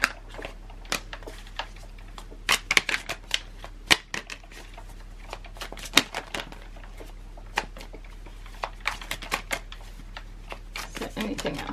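Tarot cards are shuffled by hand, a long run of irregular riffling flicks and snaps, close, over a steady low hum, with speech around them.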